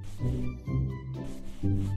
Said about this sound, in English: Wipe the letter with a towel.